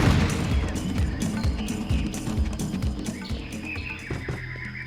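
Repeated gunfire from long-range guns in Serious Sam HD: The Second Encounter, a steady stream of sharp shots with booming impacts, loud and close over background game noise.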